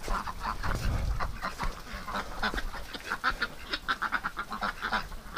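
Ducks quack in a winter farmyard with snow sliding off a nearby roof, the calls coming in a dense, overlapping chatter that turns into a steady run of quick, close quacks.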